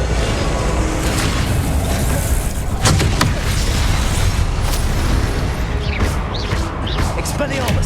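Loud blast and crackling bursts from a Confringo fire spell in the Hogwarts Legacy video game, several sharp transients over a dense, rumbling wash of game sound effects and music.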